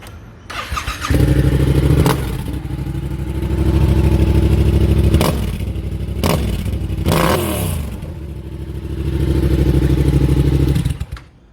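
A 2022 Yamaha Yamaha R7 motorcycle engine being started and left running: a close, loud crank and catch into a rough idle, followed by several throttle blips and swells that rise and fall before it cuts off.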